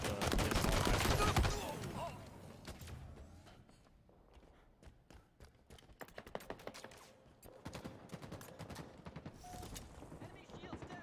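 Pistol shots from Halo Infinite gameplay ring out in a loud burst at the start, then sparser sharp cracks and clicks continue through the middle and end amid game sounds, with a voice talking.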